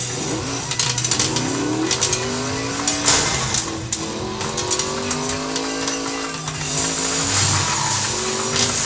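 Race cars roar around a track in the video game FlatOut 2, engines revving up and down in overlapping sweeps with tire squeals and impacts, loud and continuous.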